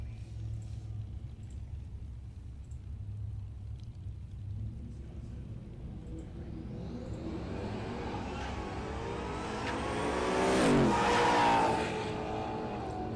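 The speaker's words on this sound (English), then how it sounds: "Both rides making their way down the drag strip here at Mo-Kan Dragway." Drag cars running down the strip at Mo-Kan Dragway during a drag-and-drive race week, a steady distant engine rumble swelling into a louder roaring pass near the end.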